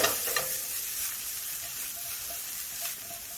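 Broccoli sizzles in oil on a Monument Grills Mesa-400 griddle, a loud, dense, continuous hiss heard up close with no talking.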